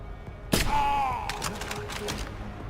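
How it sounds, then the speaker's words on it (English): A sudden sharp burst of gunfire in Deus Ex: Human Revolution Director's Cut, followed by a ringing electronic tone and a few scattered thuds and shots trailing off. "Fucking gunshots!"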